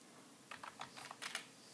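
A computer keyboard tapped in a short burst of quick, light keystrokes while a command is entered, faint and close with no voices over it.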